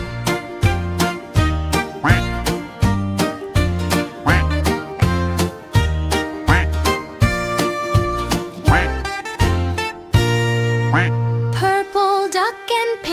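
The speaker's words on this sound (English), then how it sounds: "4 green ducks near a tree, quack together, 1, 2, 3." Cartoon-style duck quacks repeat in a bouncy, regular rhythm over a bright children's song melody with bass and chimes, the quacking close and loud, ending with a held tone and a few higher quacks.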